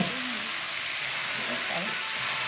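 Lobster pieces fry in a pan with a soft, steady sizzle and hiss, fairly quiet and even throughout.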